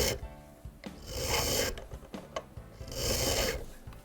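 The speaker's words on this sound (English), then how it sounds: "File carefully while rotating the pin vise." Hand file rasping a brass pin from a French Japy Freres Napoleon mantle clock, held and rotated in a pin vise, with close, scratchy strokes in two longer bursts and short scrapes between, no talking.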